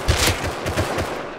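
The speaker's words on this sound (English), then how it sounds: "Getting shot from underneath." Rapid gunfire from a firefight in the survival game Rust, a burst of several close, sharp shots in quick irregular succession filling the moment without talk.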